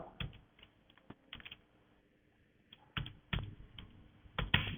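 Computer keyboard keys tapped in short irregular bursts, close and fairly quiet, with pauses between clusters of keystrokes and a louder flurry near the end.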